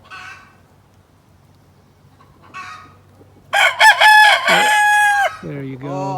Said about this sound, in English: Let's hear your crow.